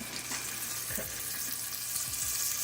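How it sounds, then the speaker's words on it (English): A steady hiss of scallops searing in hot oil, with a few light clinks of a utensil against the pan. "A nice hot oil, we're going to sear scallops to give nice color."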